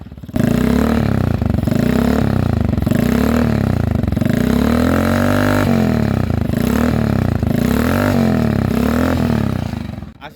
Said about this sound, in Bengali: আর এখন আমি আপনাদের এটা র সাউন্ড শোনাবো মানে হলারের সাউন্ড